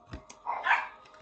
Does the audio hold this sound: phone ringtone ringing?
no